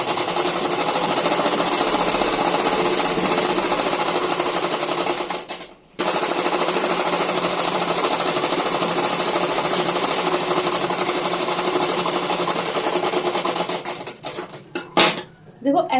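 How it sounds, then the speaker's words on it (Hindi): A sewing machine runs in long, rapid, rattling bursts, stitching blouse fabric to its lining with a straight seam, close and loud, with one brief pause and a few short stops at the end. "इसे हम ऐसे सीधी सिलाई लगाएंगे इसमें"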